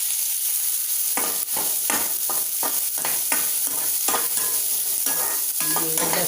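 Onion frying in a pan for egg chutney, with a steady sizzle throughout and repeated stirring strokes in an irregular rhythm, close and fairly loud, no voices.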